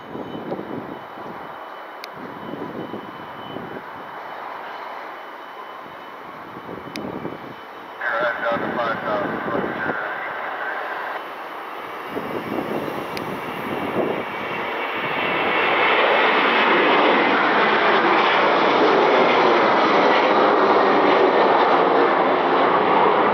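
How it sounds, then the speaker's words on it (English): A United Airlines Boeing 737 jet at Detroit Metro Airport, its engine roar building steadily from a moderate rumble to a loud, sustained broadband blast by the end, with a person speaking over the earlier part. "United Airlines 2125 737 heading to Dulles."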